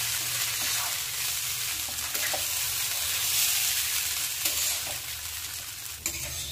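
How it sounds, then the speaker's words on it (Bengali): Raw rice frying in a pan for basanti pulao, with a continuous crackling sizzle and repeated spatula stirs scraping the pan at close range. "চালগুলোকে এবার ভালো করে ভাজতে হবে"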